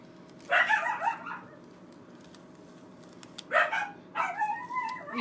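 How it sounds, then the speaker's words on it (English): Several dogs, Papillons, a Border Collie and an Australian Shepherd, bark in two separate bursts with a quiet gap between them. Some of the barks are high yips, and they sound close and fairly loud over a low background hum. "We have 2 Papillons, a Border Collie, and an Australian Shepherd."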